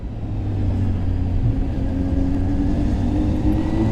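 A Honda Hornet motorcycle rides along a road with a steady, loud engine rumble and wind roar, continuous and close throughout.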